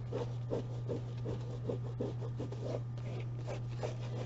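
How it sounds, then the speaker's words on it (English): Hands rubbing dampened paper off a handmade fairy wall hanging, a soft steady rasping scrape repeating in short strokes at close range over a constant low electrical hum. "you just start rubbing and it starts lifting off"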